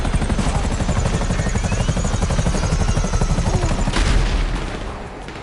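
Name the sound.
attack helicopter in a PS4 video game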